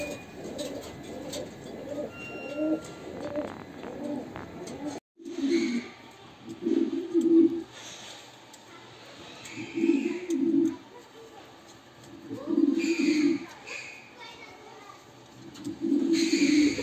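A pair of white pigeons coo in soft, repeated low phrases at close range, the calls recurring every couple of seconds, with someone talking over the first few seconds.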